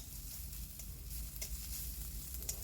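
Grated ginger and garlic sizzle steadily in a hot pan over high flame, with soft scraping as they are stirred; a continuous low frying hiss with faint spatters, no talking.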